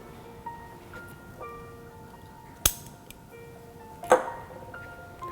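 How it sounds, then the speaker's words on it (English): A couple of sharp metallic clinks ring out, one mid-way and a louder one near the end, as a metal lid is set on a vessel of water on a lit stove, over quiet background. "And close the vessel with the lid."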